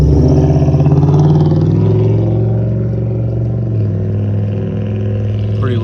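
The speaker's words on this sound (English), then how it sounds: "pretty loud car." The engine of a 2004–2008 Pontiac Grand Prix runs loud and close, with a rough, pulsing idle that revs a little at first and then settles into a steady rumble.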